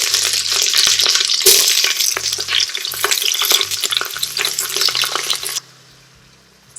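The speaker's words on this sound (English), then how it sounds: "In a stock pot over medium heat, I'll add 1 tablespoon of oil. Next, we add in the meat" Meat sizzling in a tablespoon of oil in a stock pot over medium heat, a loud steady crackling fry with stirring scrapes and clatter, dropping abruptly to a quiet hiss near the end.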